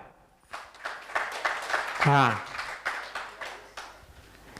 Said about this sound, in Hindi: सही जवाब के लिए तालियां